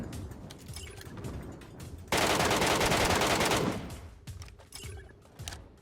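Automatic gunfire in the PUBG Mobile battle royale game, a dense, loud burst of rapid shots lasting over a second, set amid quieter game ambience and mechanical clicks before and after.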